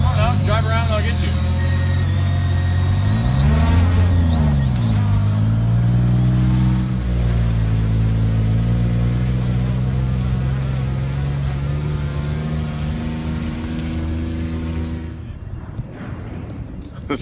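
1JZ-powered car pulling hard on a freeway, a loud close engine roar rising in pitch through the gears, with a quick dip and climb early on before fading toward the end.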